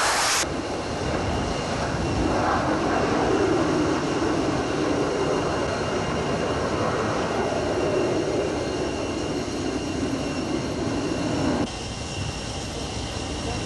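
Jet plane taking off from an aircraft carrier deck, a loud sustained engine roar that holds steady for over ten seconds before dropping off near the end.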